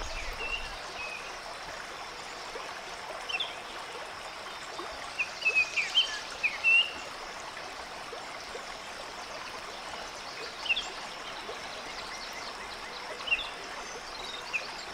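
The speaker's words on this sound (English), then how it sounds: "I can hear the sounds of the river." A mountain river flows steadily nearby as a soft continuous rush of water beside a forest path, with a few brief bird chirps rising over it now and then.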